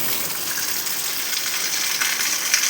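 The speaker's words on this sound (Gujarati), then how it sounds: "જો વરસાદ બહુ બહુ બહુ બહુ જબરજસ્ત આવે સમજો" Heavy rain pours down with water gushing, a dense, loud and constant rushing roar that stays even from start to finish with no voices.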